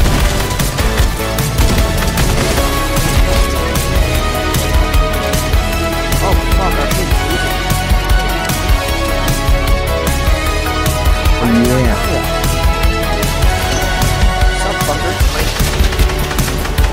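Rapid bursts of video game gunfire crackle steadily through a dense, busy mix for the whole stretch, with no clear pauses.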